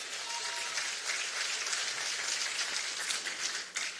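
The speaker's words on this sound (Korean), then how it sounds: "좋은 말씀해 주신 최고위원님께 다시 한번 큰 박수 부탁드립니다" Sustained, dense crowd applause at a People Power Party (국민의힘) political rally in Seoul, honoring a party supreme council member; a steady wash of many clapping hands that holds for the full span without a break.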